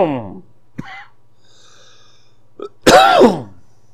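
A single sharp cough rings out near the mic, followed by a louder throaty burst like a cough or sneeze, with quiet gaps and a voice at the start.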